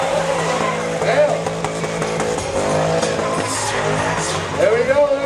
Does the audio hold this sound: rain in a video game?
no